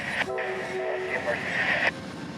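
Amtrak 41 passenger train, running two hours late after a baggage-car fire, arrives at a Central Florida station with a steady rumble, a brief horn-like tone and squealing wheels.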